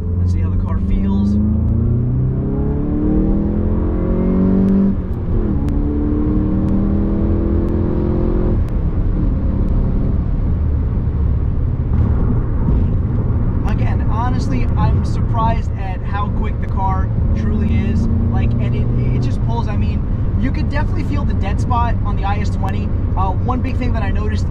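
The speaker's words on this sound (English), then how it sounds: "we're gonna give this car a good second gear pull" A Volkswagen MK7 GTI pulls hard in second gear from inside the cabin, its engine note climbing steadily in a loud, continuous rise and then easing, with someone talking over parts of the run.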